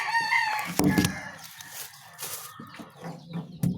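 Hungry pet chicks chirp and peep in a cluster of high, bright calls that come in bursts with short gaps, some louder and closer than others.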